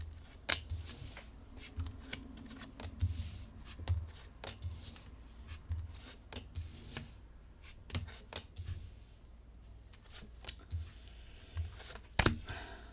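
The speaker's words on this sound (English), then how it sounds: "I'm going to place all the cards and then we're going to interpret them." Tarot cards being handled and laid out on a table: quiet, close shuffling, sliding and tapping sounds in irregular bursts.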